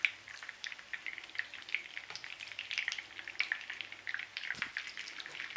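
Glamorgan sausages made with Caerphilly cheese and leek sizzle gently in a frying pan, a steady close crackle and spit of hot fat with occasional brief scrapes as they are turned, no talking.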